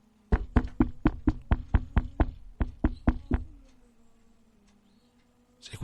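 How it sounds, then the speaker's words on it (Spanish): Insistent knocking on a door, a rapid run of about fourteen firm, evenly spaced knocks, then a fading hum and near silence. "comenzó a escuchar que golpeaban la puerta del fondo"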